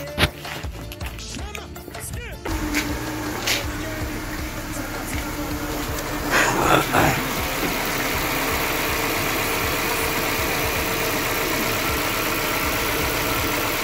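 A car's engine idles steadily at close range while the cooling system is being cleaned, a continuous low rumble following a brief start-up burst with some handling noise.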